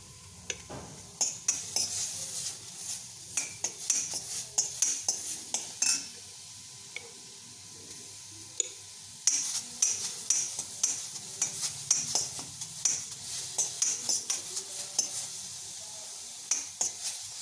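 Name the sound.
stirring fish with carrots in a pan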